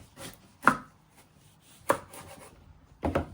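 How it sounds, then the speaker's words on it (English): A knife chopping vegetables into medium pieces on a board, three sharp, close, well-spaced chops with quiet pauses between them. "Then you're just going to chop them into medium pieces."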